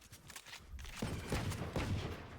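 Gunfire from the video game Valorant bursts in a few quick, rough volleys over a low background rumble. The shots sound moderately loud and come in short clusters.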